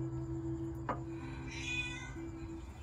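Kittens hidden inside a car engine let out a faint meow, with a brief tap just before it, over a steady low background hum.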